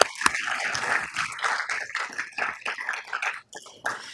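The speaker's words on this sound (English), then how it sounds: "Can we give them a round of applause?" A room full of people at a city council meeting applauds a presentation, scattered claps blending into a moderate, uneven round that rises and dips over a few seconds.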